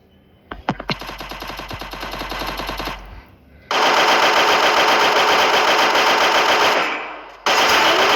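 Rapid automatic gunfire rattles in the Free Fire video game: a few single shots, then a sustained loud burst, a brief pause, and another long dense volley that cuts off before a final burst begins. No speech.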